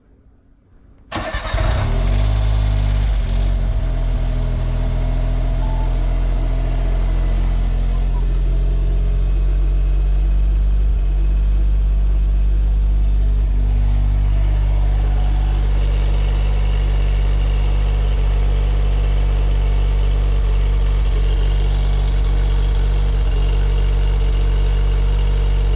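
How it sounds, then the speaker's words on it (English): A Suzuki Cara Autozam AZ-1, a small mid-engined kei sports car, cranks briefly and fires up, then settles into a steady, loud idle that runs on unchanged to the end. "let's start the car up, make sure everything works"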